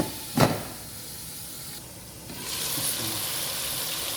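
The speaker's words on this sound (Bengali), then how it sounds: "এখানে আমি হালকা পেঁয়াজ বাজা দিয়ে দিচ্ছি যাতে কালারটা আসে" Onions frying in a pan for Hyderabadi chicken biryani make a soft, continuous hiss and sizzle that swells louder partway through, with a single sharp knock near the start and no talking.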